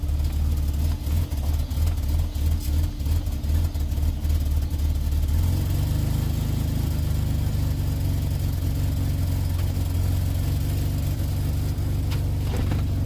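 A BMW E36 engine with the mass airflow sensor unplugged pulses in short rhythmic revs close to the microphone, then settles into a steady, loud, low-pitched drone.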